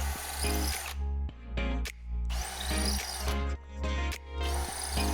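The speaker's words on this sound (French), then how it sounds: "utilisez bien évidemment une mèche à pierre pour percer le mur." A power drill fitted with a masonry bit bores into a wall, its loud motor whine rising and dropping in repeated pulses as pressure is applied and eased, close up with no talk.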